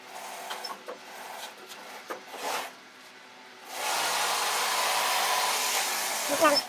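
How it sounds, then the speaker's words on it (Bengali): An automatic sewing machine double-stitching a mattress starts up after some light handling noises, then runs as a steady, even mechanical whir close by, ending with a few clunks. "দেখেন সুন্দর করে সেলাই করতেছে"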